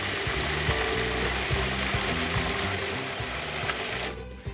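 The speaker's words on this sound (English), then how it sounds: "And then blend everything until it's completely smooth" A blender whirs steadily through a molasses mixture, a loud, even mechanical drone with a rapid rhythmic chop that runs throughout and cuts off near the end.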